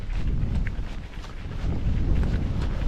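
Strong wind gusting across the microphone on a high Scottish mountain plateau during a mountain bike ride near Braeriach, a loud, rumbling buffet that rises and falls, with no voices.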